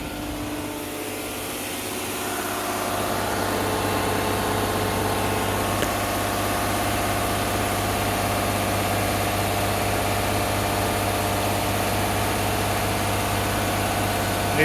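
A direct injection car engine held steady at 2,000 RPM, giving a continuous close-up hum with a steady mechanical drone throughout, rising slightly in level early on.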